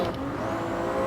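A car in Gran Turismo 7 spins its wheels and skids on a circuit, a steady loud engine drone with a faint high tire squeal running throughout.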